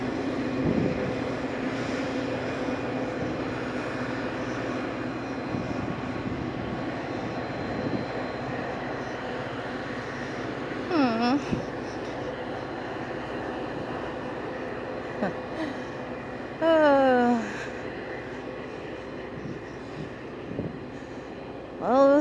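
Locomotive Twotenny runs off into the yard as a steady rumble with faint squeals and rising whine bursts, fairly distant and continuous, with no talk.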